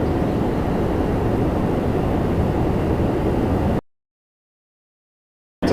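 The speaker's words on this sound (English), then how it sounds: "Air Canada 873, 7879 Dreamliner from Paris coming in next." An Air Canada Boeing 787-9 Dreamliner arriving from Paris lands at Toronto Pearson, making a loud, steady broadband jet roar close by. The roar cuts off abruptly partway through, leaving silence.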